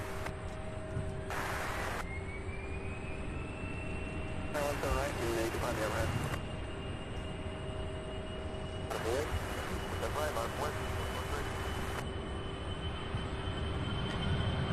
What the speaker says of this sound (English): This is a Bombardier, let's see, Global 5000 heading to West Palm Beach.